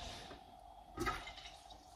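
Water rushing through household plumbing as the borehole-fed supply returns after running dry, a steady hiss that swells into a louder gush midway before settling back to a constant flow, with no talking.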